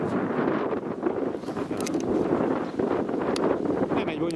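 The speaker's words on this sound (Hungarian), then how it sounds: "Most egyébként föltámadt a szél, ismét kezdődik, hallod" Gusty wind buffets the microphone with a continuous rumbling roar, rising and falling in strength throughout.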